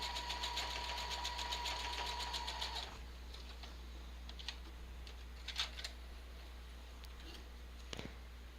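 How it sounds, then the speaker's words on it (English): A sewing machine stitching through paper, a fast, even mechanical whirr that runs steadily for about three seconds and then stops, followed by faint clicks and a low background hum. "This sewing machine has 100 different stitches."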